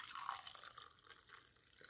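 Boiled clove and rice tea being strained, a faint steady trickle of liquid running through a strainer into a cup, quiet and continuous with no talk.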